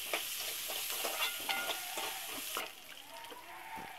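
Small onions sautéing in hot oil with cumin and curry leaves, a steady close sizzle with repeated stirring scrapes. The sizzle drops somewhat partway through.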